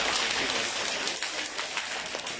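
A large audience pats and claps their hands together to imitate heavy rain, a loud, dense, continuous patter close and filling the room from start to finish.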